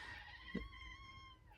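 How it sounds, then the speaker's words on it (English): A cat lets out a single faint, drawn-out meow that wavers slightly in pitch. It is quiet and somewhat distant, set against a low background hum, with no speech. "So that's the cat right there."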